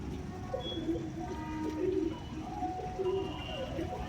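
Soft, low cooing of pigeons repeating under quiet background noise, fairly close but faint.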